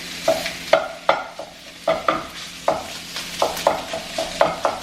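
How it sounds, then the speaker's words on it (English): Ground beef fries in a pan for lasagna, with a steady sizzle under repeated scraping stirs of a utensil against the pan, loud and close. "Okay, we're gonna add in some ground beef."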